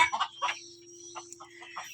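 Free-range village chickens cluck nearby in a handful of short, irregular bursts over a quiet background with a faint steady hum.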